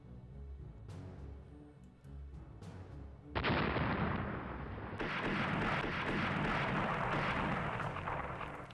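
Six-inch naval guns firing in the Rule the Waves naval strategy game: a heavy, roaring broadband blast erupts partway through, and a second salvo joins it to form a sustained, loud rumbling barrage.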